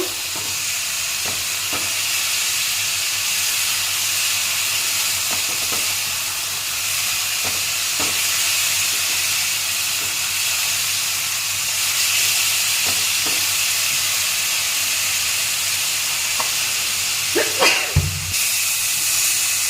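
Water added to hot oil in a pan for chital fish curry sets off a loud, steady sizzle and hiss. Stirring scrapes and clinks come through at intervals, with a brief clatter near the end.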